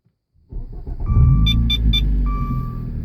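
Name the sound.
Dodge Dart car engine exhaust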